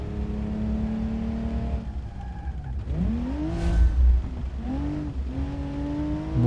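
Simulated car engine in the BeamNG driving game, revving up and down in steady harmonic sweeps, rising sharply near the middle with a loud surge, then settling to a sustained drone, close and continuous with no talk.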